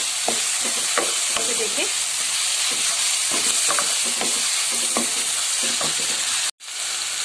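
Tomatoes sizzle steadily in a hot pan for a kala chana curry while a spoon scrapes and stirs in irregular strokes, with one brief spoken word over the cooking.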